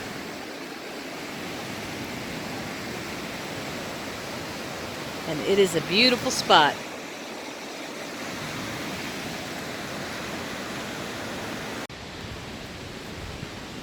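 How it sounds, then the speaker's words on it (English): The Kern River flows with a steady broadband rush of moving water, continuous and fairly close, while a person speaks briefly over it midway. "This is the Kern River."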